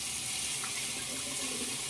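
Tap water runs steadily into a sink while shaving, a close, even hiss of flowing water for a couple of seconds with no talk.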